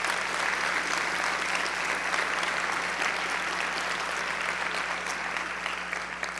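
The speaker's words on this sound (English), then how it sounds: "Please give them an all collective applause." Audience applause at a school district's annual State of Schools event in Fayette County, a dense, steady clapping from a large crowd that holds strong throughout and tapers slightly at the end.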